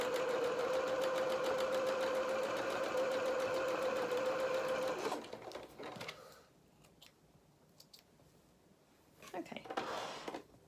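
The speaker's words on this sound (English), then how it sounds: "I'm doing zigzag because I'm guessing that most of you will have a zigzag stitch on your sewing machine" A sewing machine stitches a zigzag seam in a fast, even, buzzing run for about five seconds, then stops; quieter handling noises and soft rustles follow.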